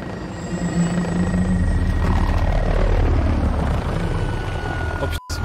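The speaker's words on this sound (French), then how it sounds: "Oh, la petite arrivée en, en hélico là." A helicopter arrives in Call of Duty: Modern Warfare (2019), its rotor thrumming loud and close in a steady, heavy drone with some higher whine, continuous until a brief cut near the end.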